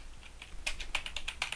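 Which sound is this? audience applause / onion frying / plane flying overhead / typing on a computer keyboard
typing on a computer keyboard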